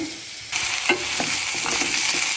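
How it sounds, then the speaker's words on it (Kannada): Vegetable pieces for a traditional temple-style sambar hit hot oil in a pan with a sudden burst of sizzling. The close frying hiss continues evenly with a few soft stirring knocks, and no one speaks. "ಇವಾಗ ನೋಡಿ ಕೋಳುಗಳೆಲ್ಲ ಚೆನ್ನಾಗಿ ಫ್ರೈ ಆಗ್ತಾ ಇದೆ"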